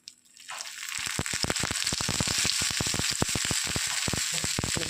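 Fenugreek dosa, Kerala-style methi dosa, frying in oil on a pan: a loud, close, continuous crackling sizzle that swells in after a brief quiet start and holds steady throughout.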